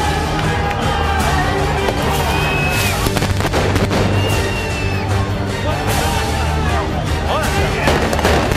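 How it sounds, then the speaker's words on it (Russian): Sharp gunfire bangs go off repeatedly amid a noisy outdoor protest crowd, with shouting and scattered whistles over a constant roar. "Там уже стрельба"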